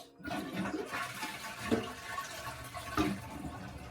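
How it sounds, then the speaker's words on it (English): A home toilet is flushed by pouring water from containers during a power outage, a quiet sustained gush and gurgle of water with a few splashy surges. "But it's enough to flush your toilet and get done what you want it to do."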